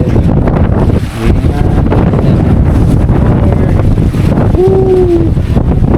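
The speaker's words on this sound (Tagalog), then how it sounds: "Ang lakas lang ng hangin" Strong wind buffets the microphone on Barabang Kaso Island off Ticao Island, Masbate, a steady loud roar with faint surf beneath and a brief tonal whine near the end.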